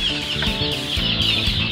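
Several Rhode Island Red chickens cluck close by in a continuous, busy chatter of short repeated calls, fairly loud and with no talking.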